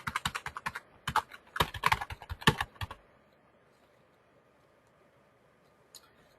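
Quick bursts of clicking keystrokes on a computer keyboard as an email address is typed in, loud and close for about three seconds, then near silence broken by one faint click.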